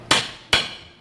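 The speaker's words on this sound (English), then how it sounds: "first you need to hit the hammer because it's stuck" A hammer strikes a stuck rear brake drum on a Toyota HiAce GL twice, giving two sharp metallic blows about half a second apart, close and loud with short ringing decays.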